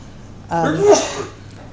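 A single sneeze up close, a quick voiced intake bursting into a breathy release, then quiet.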